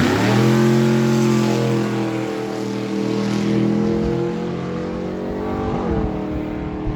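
A 1988 Chevy S10 drag racer makes a full pass down the strip at Miramichi Dragway, its engine roaring loud and steady through the gears with rising harmonic revs and a brief shift near the end.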